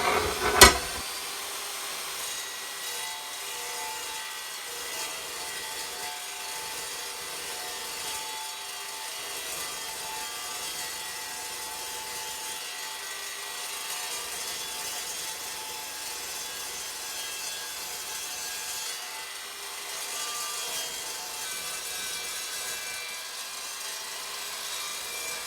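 A saw blade on a drill press cuts through aluminium, a continuous close grinding hiss that runs steadily for a long stretch after a short sharp knock at the start.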